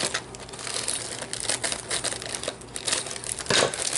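Plastic packaging crinkles and rustles steadily while it is cut open with scissors during a haul of thrift and estate sale finds, with close, busy crackling and a few sharper snips and crunches.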